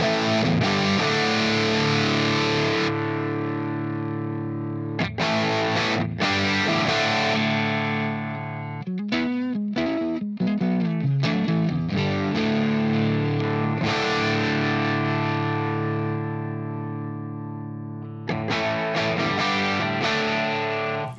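Electric guitar through the dynamic amp model of a Line 6 POD Express, a loud distorted tone with sustained chords, choppy palm-muted bursts and ringing strums, played alone.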